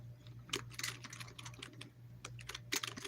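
Keys tapped on a computer keyboard in irregular quiet bursts, a few sharper clusters of clicks standing out over a steady low hum, with no voices.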